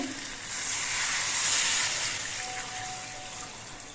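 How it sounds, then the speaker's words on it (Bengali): Water pours into a pan of spiced vegetables being cooked for a Bengali shukto, giving a broad, steady hissing splash and sizzle that swells and then settles, close and fairly loud with no talking. "এবার এর মধ্যে আমি জল দিয়ে দিচ্ছি"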